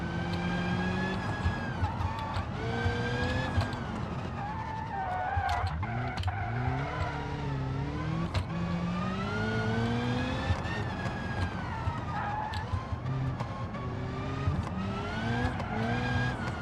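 A racing game car with a 5-speed transmission drives a mountain touge road, its engine droning steadily and rising and falling in pitch through gear changes, with occasional tire squeal, loud and continuous with no talking.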